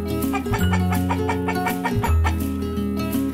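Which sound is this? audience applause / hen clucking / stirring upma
hen clucking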